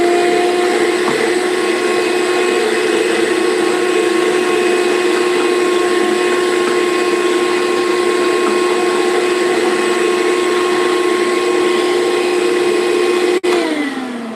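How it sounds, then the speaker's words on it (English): A vacuum cleaner drones steadily at close range with a constant high whine, cutting off abruptly near the end, during sanding work on a vintage chair. "Vacuum for a sec here."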